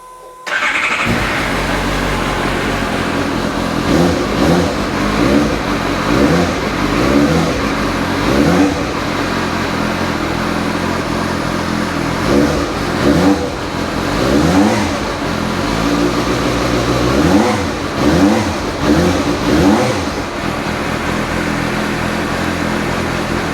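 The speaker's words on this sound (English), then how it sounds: "let's start this up, listen to it run" A Suzuki GSR 750 motorcycle engine starts and keeps running, a loud steady mid-pitched idle with a few revs rising and falling, close up and alone throughout.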